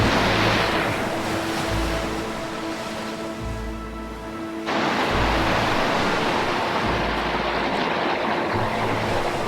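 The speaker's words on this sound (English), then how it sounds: "The sea is very, very nasty and angry this morning." Rough, angry sea surges against the Ballycotton coast, a loud continuous roar of breaking waves and wash with gusty wind buffeting close by.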